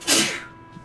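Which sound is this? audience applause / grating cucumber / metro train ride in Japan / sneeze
sneeze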